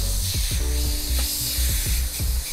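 Airbrush spraying paint onto a T-shirt in a graffiti design, a steady broad hiss running throughout, with repeated low thumps and tonal hum from the compressor underneath.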